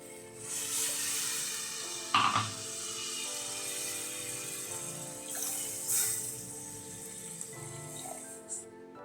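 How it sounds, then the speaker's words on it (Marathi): Water poured into roasted spice masala in a pan for egg curry, making a continuous gushing, splashing pour at close range, with a few louder splashes partway through. "आता आपण पाणी सोडूया याच्यामध्ये."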